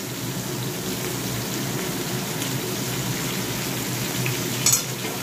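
Drumstick pieces frying with vegetables in a pan, a dense even sizzle like light rain, steady and close throughout with one brief sharp clatter near the end, no talking.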